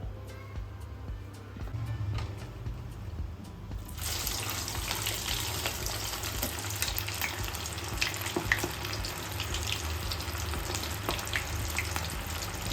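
French fries drop into hot oil and fry with a sudden burst of dense, steady sizzling and crackle that holds at moderate loudness after a quieter start.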